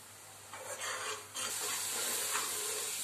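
Green chillies sauté in a pan for a hulga kadan dish, a soft sizzle and stirring hiss that swells in bursts and then holds steady, close and fairly quiet, with no talk.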